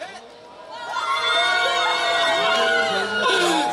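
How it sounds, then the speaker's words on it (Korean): A side section of a crowd at an outdoor K-pop concert in Hongdae shouts on cue, a sustained, moderately loud mass of overlapping voices and whoops that swells after the first second and holds steady, sounding somewhat subdued in the heat. "날이 더워가지고 조금 지친 듯한 함성이었습니다"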